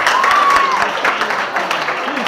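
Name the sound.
audience applause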